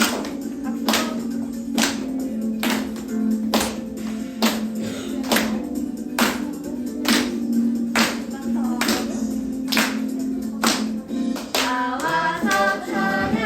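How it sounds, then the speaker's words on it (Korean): Children at a church service clap together in a steady, even beat, about one clap per second, as a sung hymn with music continues underneath. "박수."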